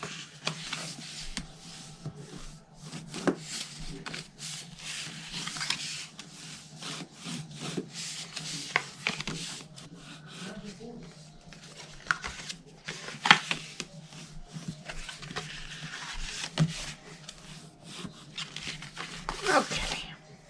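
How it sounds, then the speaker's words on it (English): Scored cardstock being folded and burnished by hand while making a Thanksgiving belly band gift box, a steady soft papery rubbing and scraping that runs throughout with small crisp crinkles and taps, close and fairly quiet. "Now I'm going to fold and burnish."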